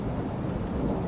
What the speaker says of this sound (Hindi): हे प्रभु, अब तो बारिश भी शुरू हो गई।